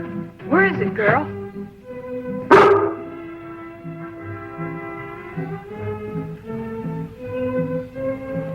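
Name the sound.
dog barking while tracking wild bees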